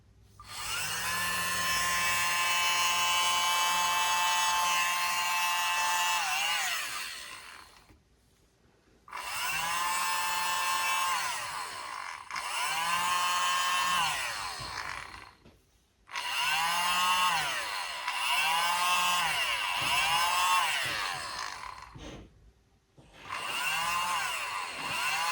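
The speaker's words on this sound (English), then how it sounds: "I am going to be using my little mini leaf blower here" A small mini leaf blower whines at high pitch as it blows fluid art paint, running in several long bursts with brief stops between them, loud and close, its motor pitch rising and falling slightly.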